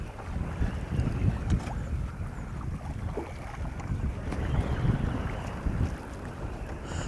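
Wind gusts across the Colorado River during a sunny fly-fishing outing for brown trout, a steady low buffeting rumble against the microphone with swelling and easing gusts and no voices.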